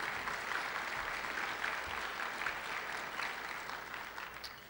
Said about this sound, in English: How about some applause for the faculty and staff?